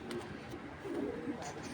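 A male blue checker racing pigeon coos softly nearby in a short, low, rolling phrase, repeated once or twice, fairly faint against a quiet background.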